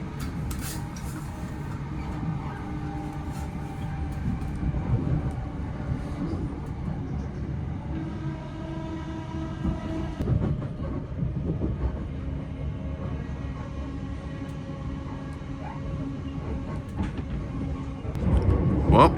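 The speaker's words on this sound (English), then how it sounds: "This train started to be ridiculously slow for some reason." A passenger train runs on rails between Cambridge and London at slow speed, a steady low rumble and rattle with occasional clunks, heard from inside the carriage, building slightly louder at the end.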